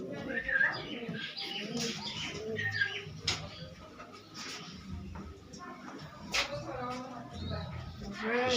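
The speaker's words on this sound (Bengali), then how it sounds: "আর প্রচুর পায়রা আছে" Pigeons coo softly inside a loft holding many birds, including Saharanpuri pigeons, with scattered chirps and fluttering over a dense murmur of birds throughout.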